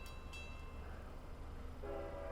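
A Long Island Rail Road train approaches a crossing in Speonk, faint and distant under a low rumble, and a short horn toot sounds near the end.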